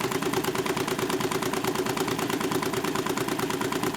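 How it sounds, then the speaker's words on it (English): Stirling engine with stainless steel mesh regenerator mounted on a bike, running at 588 RPM with a fast, even, rapid chugging beat much like a small combustion engine, steady and close for the full duration. "It almost sounds like a combustion engine, though there's no combustion, at least internally."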